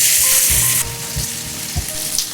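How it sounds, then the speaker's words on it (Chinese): Chopped scallion, ginger, garlic and small chili peppers dropped into leftover hot oil from frying tofu, giving a loud, close burst of sizzling that settles into steady crackling with a few light clatters. "我们把切好的葱姜蒜、小米椒直接倒在锅中"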